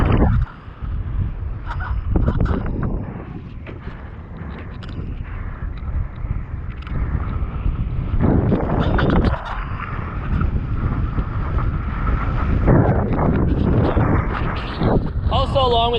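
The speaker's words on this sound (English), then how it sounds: "the wind's actually starting to kick in a little bit" Strong wind roars and buffets the microphone during kitesurfing on open water with a Duotone Neo kite, loud and continuous throughout, with water splashing and a voice briefly heard underneath.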